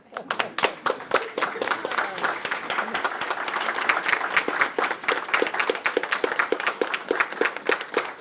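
Audience at a school board meeting breaks into steady hand-clapping applause, dense and fairly loud throughout, with sharp individual claps standing out near the start and end.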